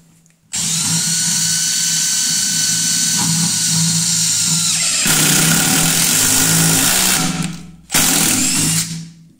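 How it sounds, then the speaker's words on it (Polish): A Makita DTD172 impact driver sinks a 4x90 screw, whirring loudly at low speed before shifting to a harsher, rapid hammering impact, then stopping briefly and firing a short final burst. "Tryb A, czyli wkręcanie wkręta najpierw z małą prędkością obrotową do załapania pierwszego udaru"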